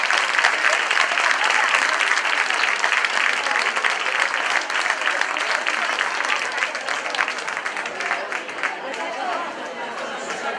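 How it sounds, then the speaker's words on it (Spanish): Applause from the audience at a children's Christmas festival in Cadreita, with dense steady clapping and crowd chatter that fades slightly over about ten seconds. "Un fuerte aplauso para ella."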